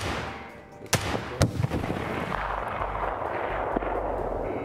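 Sharp gunshots ring out in Escape From Tarkov, two close together near the start and a fainter one later, each cracking over a steady rumbling background with no talk.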